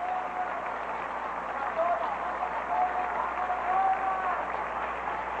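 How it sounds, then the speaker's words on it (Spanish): A crowd applauds the newly crowned winner at the Miss Colombia 1992 pageant, a steady wash of clapping at moderate distance, with a presenter's voice speaking over part of it. "Un fuerte aplauso para ella."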